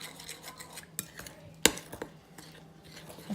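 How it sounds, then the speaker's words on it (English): A utensil stirs pumpkin into keto pancake batter in a bowl, giving quiet, irregular clinks and scrapes against the bowl with one sharper knock, close up and without speech. "I'm gonna add 1 tablespoon of pumpkin. And then I'm gonna mix this well."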